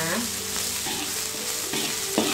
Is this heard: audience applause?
no